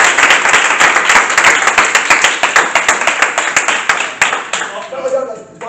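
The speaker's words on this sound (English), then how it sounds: "we're going to clap them back in" An audience at a live dating game show bursts into dense applause and clapping, loud and sustained throughout, tapering off near the end.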